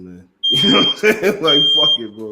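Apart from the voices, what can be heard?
alarm beeping, like a smoke detector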